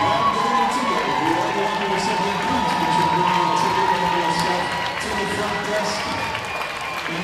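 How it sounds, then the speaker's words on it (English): Crowd at a charity hockey event in Weymouth cheering and applauding, with whoops and shouts carrying steadily at full volume amid crowd voices. "A great round of applause and well deserved"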